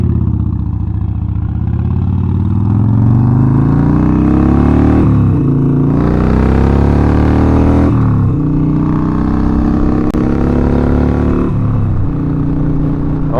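Harley-Davidson Sportster motorcycle on a test ride after rear-wheel spoke tightening, loud close engine note rising and falling through several gear changes with continuous wind and road roar.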